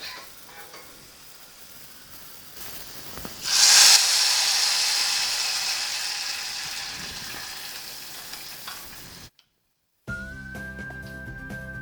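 A hot tempering of small onions, dried chillies and curry leaves poured into parippu lentil curry: a sudden loud burst of hissing sizzle that slowly fades over several seconds, followed by a brief silence and then music.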